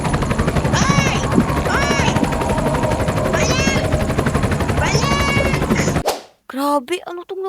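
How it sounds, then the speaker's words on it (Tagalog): Helicopter in the Roblox game Brookhaven, a loud steady rotor and engine drone lasting about six seconds with repeated rising electronic tones over it, then cutting off abruptly, followed by brief bursts of voice. "Tara, sumakay na tayo ng helicopter."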